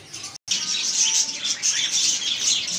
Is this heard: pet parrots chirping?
yes